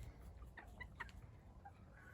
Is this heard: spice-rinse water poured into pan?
no